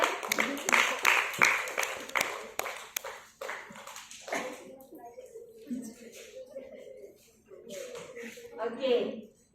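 Brief burst of classroom applause for a student, a few students clapping in scattered, uneven claps over the first few seconds before fading into the voices of people talking in the room.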